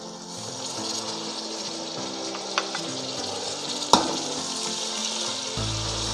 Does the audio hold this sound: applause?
no